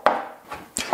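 A knife chopping onion on a cutting board, three quick dull thuds close by.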